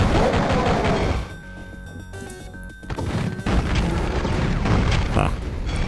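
Blast of an RPG rocket going off in a retro video game, a loud crashing boom that fades to a brief lull before dense rumbling game noise returns.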